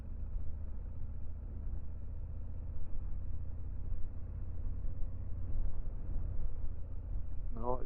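A 2024 Honda Africa Twin 1100 DCT motorcycle coasts along at around 2000 rpm, its engine giving a steady, low, tractor-like chug under constant wind noise.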